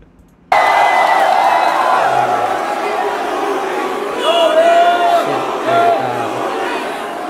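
A crowd at a FlipTop rap battle erupting suddenly into loud, sustained cheering and shouting, with whoops and swells rising over the roar and voices mixed through it.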